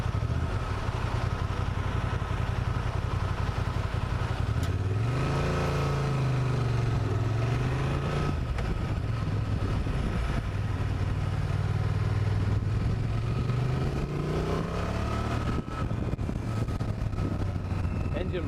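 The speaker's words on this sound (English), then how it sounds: "Oh, I like this engine. It's not a V-twin, but it's really well tuned." A new Honda Transalp motorcycle engine drones steadily while riding, with its pitch rising and falling through gear changes and speed changes. It sits under continuous wind noise, and a rider talks over it.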